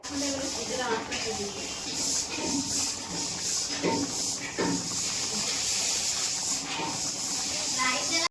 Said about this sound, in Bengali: এখানে পম্পেস মাছটা ভাজা হচ্ছে